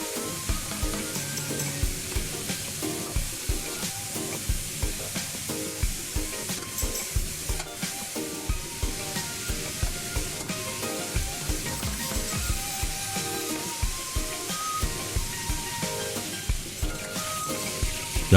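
Duck pieces frying in a pan for braised duck with chuhou paste and tangerine peel: a steady, close sizzle runs throughout, broken by regular scraping and stirring strokes.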